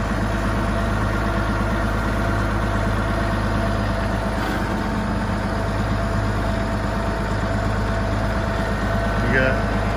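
An IH 5088 tractor runs with its 540 PTO engaged, a steady low diesel rumble holding even and close for the whole stretch while someone talks over it.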